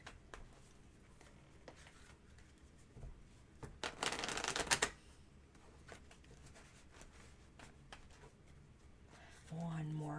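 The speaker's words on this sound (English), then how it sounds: "One more quick shuffle." Tarot cards riffled and shuffled in a quick papery burst, with faint soft handling noises before and after and a brief low hum near the end.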